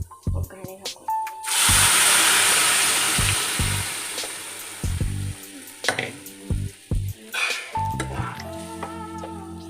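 Pressure-cooked lentils are poured into a hot tempering for an okra dal fry, setting off a loud burst of sizzling that slowly fades, with someone talking before and after.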